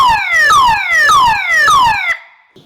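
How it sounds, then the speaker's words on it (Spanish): A 12-volt, 2-amp car alarm siren triggered by a PIR motion sensor wails loudly in repeated falling sweeps, about four cycles, then cuts off abruptly into near silence. "Hemos conectado al relay nuestra sirena de auto, una sirena de 12 voltios, 2 amperios"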